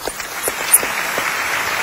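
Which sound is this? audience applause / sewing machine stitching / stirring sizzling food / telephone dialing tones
audience applause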